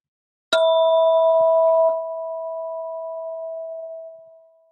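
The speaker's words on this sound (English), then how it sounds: "when you no longer hear the sound of the bell" A single bell is struck once, ringing with a clear, pure tone that slowly fades away over several seconds in silence.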